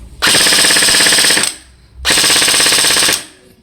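An MDX 4.0 gel ball blaster with a metal gearbox firing full auto, two loud, close bursts of rapid mechanical rattling, each just over a second long, separated by a short pause.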